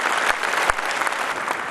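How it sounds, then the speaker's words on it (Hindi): An audience at a formal program gives a steady round of applause for an honored guest, dense clapping throughout with a few sharper claps standing out. "दर्जी जी के लिए पहले एक बार तालियां बजा दीजिए"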